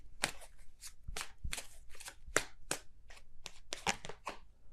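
Tarot cards are shuffled by hand in quick, crisp riffles and snaps, a rapid irregular run of close, soft card slaps with no talking.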